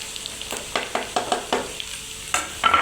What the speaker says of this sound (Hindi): अब हम इसे भी अच्छे से मिक्स कर लेंगे।